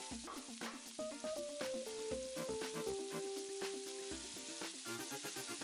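Prawns frying in a hot pan alongside mushrooms, a steady close sizzle running throughout with musical tones playing over it and no talking.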